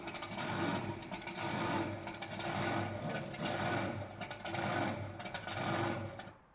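A big supercharger under the hood of a car whines with a busy mechanical rattle, surging in repeated waves of roughly one per second, loud and alone without voices.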